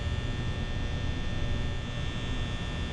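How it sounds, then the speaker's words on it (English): Steady ambient hum of an office fan mixed with electrical light-bulb static in the Five Nights at Freddy's video game, a constant, even drone with no talk. "During your nights, noises that are constantly playing are the office fan and light bulb static."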